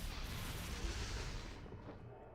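A loud, sustained booming explosion rumbles from the Soul Reaver video game, a broad roar holding steady before its upper edge fades away near the end.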